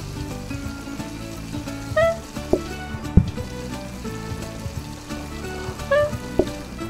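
A steak sizzles on a grill in the cooking video game PlateUp, a continuous fry hiss with occasional chimes and clicks from the game interface.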